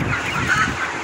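Broiler chickens on a farm cluck and murmur together in a brief, dense, continuous flock chorus.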